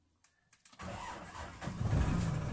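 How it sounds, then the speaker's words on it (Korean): A truck left parked and unused all winter is forced to start. A few clicks and cranks come first, then the engine catches and settles into a loud, steady running rumble close by. "자, 다시 시동을 걸기 시작합니다."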